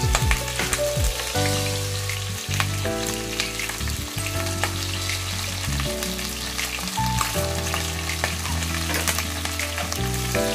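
Ridge gourd and potato fry with nigella seeds and green chilli in a pan over low heat, a continuous even sizzle heard under background music.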